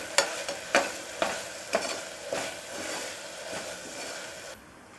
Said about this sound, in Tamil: வெங்காயம் வதங்கினதுக்கப்புறம் இஞ்சி பூண்டு விழுது போட்டுடலாம்.